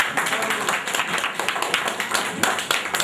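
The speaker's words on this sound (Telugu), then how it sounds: "చప్పట్లు." An audience claps at a Vijaya Dairy milk products brochure launch event in a board hall, a steady patter of many hands with dense, even claps throughout.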